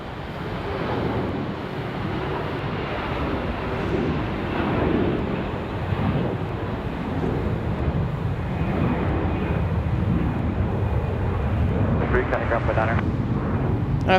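A CRJ regional jet roars through its takeoff at Raleigh Durham airport on a windy day, a steady loud engine rumble with wind buffeting the microphone, while a person talks over it throughout.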